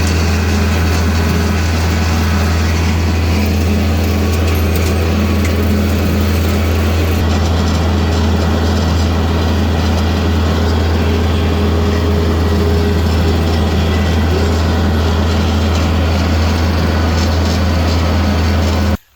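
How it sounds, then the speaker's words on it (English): A lawn mower engine runs steadily while mowing a large property, a loud constant drone with a strong low hum throughout, cutting off abruptly at the end, with no talking. "I'm gonna start doing some mowing and we'll check back in here in a little bit."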